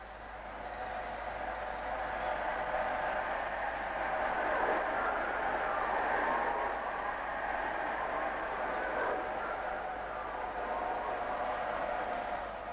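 A glider in flight in 1959, a steady rushing airflow with a smooth midrange whoosh that swells slightly and holds constant, no voices.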